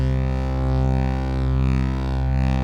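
A dense, steady UDO Audio Super 6 synthesizer drone with many stacked harmonics, slowly undulating in tone and level as LFO-driven FM modulation sweeps through it.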